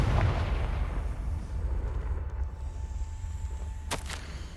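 A Confringo fire spell is cast in the video game Hogwarts Legacy, opening with a booming fiery burst that rumbles and fades, then a sharp cracking impact near the end over low, continuous game ambience.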